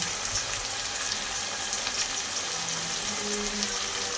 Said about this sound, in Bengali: সমস্ত মশলা তেলের সঙ্গে ভালো করে কষিয়ে নেব